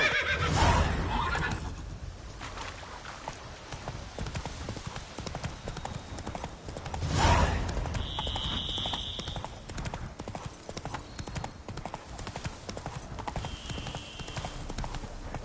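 Horse galloping and neighing in The Witcher video game, with steady clip-clop hoofbeats throughout and louder neighs near the start and again around the middle.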